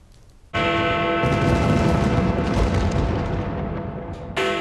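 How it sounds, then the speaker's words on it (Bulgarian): New Year fireworks bursting over London at midnight after Big Ben's chimes, a dense, loud, continuous roar of booms and crackles that starts abruptly and keeps rumbling for several seconds. "Великобритания посрещна новата година с зрелищни огнени спектакли."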